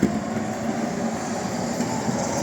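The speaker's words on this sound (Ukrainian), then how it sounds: "Трамвай їде на вокзал, він тепер тут їздить." A Lviv city tram passes along a reconstructed street, giving a steady, close rumble of wheels on rails with faint clatter, with no talk over it.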